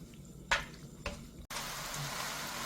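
Bean sprouts and glass noodles stir-fry in a pan with a steady hiss and crackle. A couple of sharp clinks come early on, and then the sizzle grows louder and more even, with no one talking.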